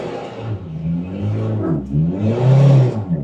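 A converted car's engine revving at close range, the pitch climbing and easing in two surges with a whirring mechanical tone, no talk.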